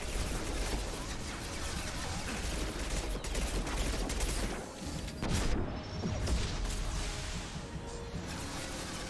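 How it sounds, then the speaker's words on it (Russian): A mounted machine gun fires in Mass Effect 2, a dense, continuous stream of rapid shots with impacts and crashes, loud and sustained for the whole stretch with a brief dip midway. "Так, теперь за пулемет садимся."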